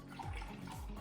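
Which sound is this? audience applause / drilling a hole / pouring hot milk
pouring hot milk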